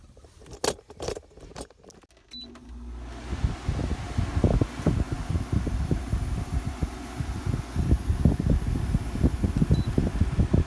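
A few sharp clicks and taps, then a portable air conditioner's fan on dehumidify mode kicks in with a steady whirring hum inside a 1974 Volkswagen Westfalia bus, running continuously with a faint rattling throb underneath.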